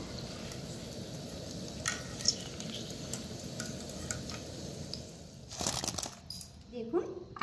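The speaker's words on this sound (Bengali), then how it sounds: "বাকি মিষ্টিটাও লাল লাল করে ভেজে নিয়েছি" Semolina sweets frying in oil, with a soft, steady bubbling sizzle close by and occasional light clinks and scraping stirs. A clattering burst comes near the end.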